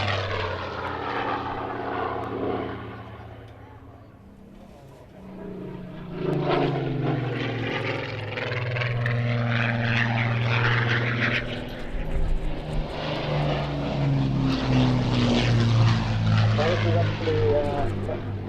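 A propeller aircraft powered by Merlin engines passes overhead at a display, its deep droning engine note swelling and fading with the flyby, while a commentator talks throughout.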